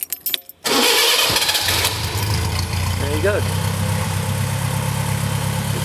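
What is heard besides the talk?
Westfield SE car engine starting and idling, Weber carb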